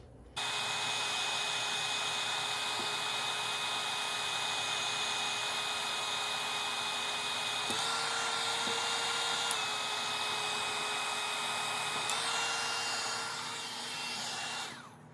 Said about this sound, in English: notice I got a Bauer heat gun on a DeWalt battery